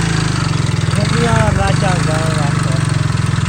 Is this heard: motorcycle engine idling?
yes